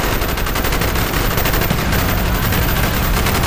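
Sustained automatic covering fire in a first-person shooter, with loud continuous rapid shots filling the whole stretch without pause.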